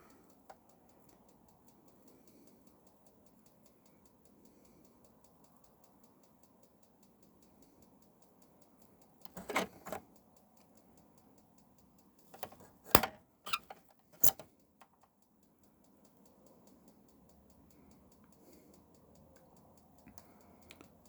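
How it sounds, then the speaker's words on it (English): Sharp clicks from a gas fridge igniter in a 2009 Bailey Senator Louisiana caravan, a cluster of several quick snaps near the middle against a quiet room, with no talking. "To ignite it, you press the valve in and hit the igniter."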